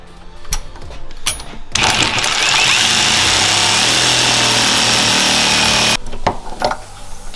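A power tool grinds through captive washers on bolts during a Toyota Supra rally car lighting install, starting with short bursts and then running in one loud, continuous high-pitched cut for about four seconds before stopping.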